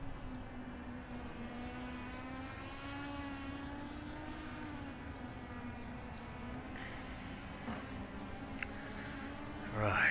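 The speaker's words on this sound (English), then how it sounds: "you can hear he's getting a bit loose on the rear, the way that throttle's kicking up" Racing car at Big Hole, its engine droning steadily with harmonic whine as the throttle rises and falls while the rear slides loose, a sustained near roar that swells slightly at the end.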